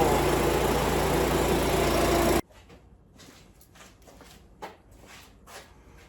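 A leaf blower engine, recently taken apart and cleaned, roars loud and steady right after a pull start, then cuts out abruptly after a couple of seconds, leaving quiet shuffling and a few soft footsteps.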